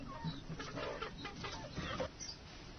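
Chickens raised by a displaced family in Sri Lanka cluck on a small plot with a garden, giving soft, scattered clucks at moderate distance over faint background noise.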